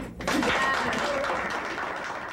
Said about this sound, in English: we can give ourselves a really great round of applause for the work well done